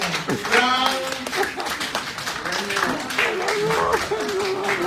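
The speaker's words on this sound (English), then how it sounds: "Let's give a big, big round of applause to Professor Yene." A crowd claps a big round of applause at a birthday celebration, a continuous dense patter of hands throughout, with voices and cheers mixed in over it.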